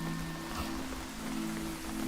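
Steady rain falls in the Throne and Liberty video game, a dense continuous hiss of drops on surfaces with a faint steady hum underneath, with no voices.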